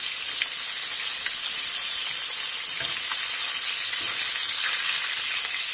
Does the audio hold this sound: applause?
no